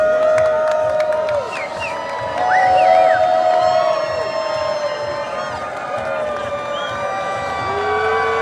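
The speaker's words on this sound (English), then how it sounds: "the crowd is absolutely fired up for change here in Canada" Large crowd at a Pierre Poilievre political rally in the Maritimes, cheering and whooping with scattered shouts and whistles, a loud sustained roar that swells midway, voices piled on top of one another.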